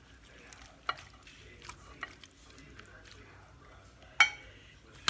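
Olives and tomatoes go into a pan of enchilada filling for stuffed chicken peppers, giving a soft, faint sizzle and stirring, with a few sharp utensil clinks against the pan.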